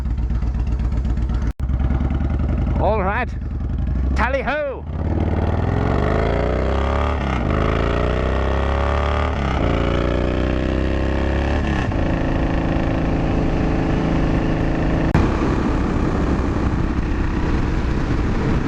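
A Honda Ruckus scooter's exhaust drones steadily while riding, a close, continuous low engine hum that rises and falls with throttle, with a brief spoken phrase near the start.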